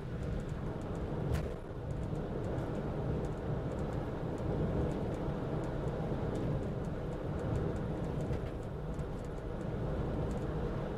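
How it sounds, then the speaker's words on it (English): Steady broadband road and tyre roar inside a VW camper cruising at about 60 mph on Michelin CrossClimate SUV all-season tyres, a constant dense rumble with no speech. "this is the road noise at around about 60 mile an hour"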